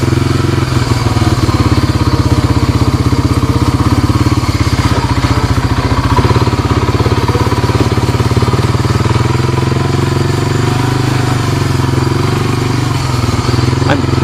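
A 1998 Honda Foretrax 300 ATV engine drones loudly and continuously up close while riding a trail, with a steady rumbling putter and slight rises and falls in revs, and clattering mixed in.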